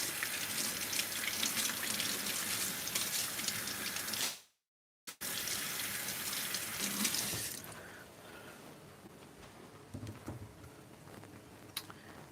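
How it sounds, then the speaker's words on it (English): Fresh corn rinsed under a running kitchen tap makes a loud, continuous rush of water that cuts out briefly, resumes, then thins to softer splashing and drips near the end. "I have some fresh corn. I'm gonna wash off and chop up."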